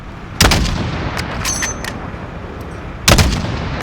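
Gunfire in the video game Call of Duty Modern Warfare during a fight against a pick-up truck: two heavy, loud shots about three seconds apart, with short crackling bursts between them.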